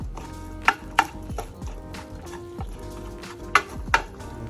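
Tex-Mex spiced pork being mixed in a single pan, with a few sharp scrapes and clanks of a utensil against the pan over a low sizzle.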